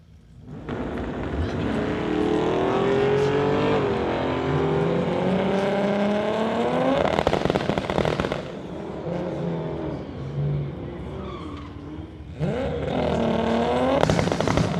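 A 1968 Mercury and a 1972 Chevy drag racing the eighth mile at a Friday night street-legal event: loud engines rev and climb through the gears, then fall away and roar again.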